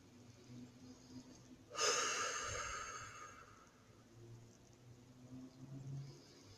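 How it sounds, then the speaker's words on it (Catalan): One long, deep breath drawn and released during a guided relaxation exercise, close and soft, with quiet room tone before and after. "respirem profundament 3 vegades."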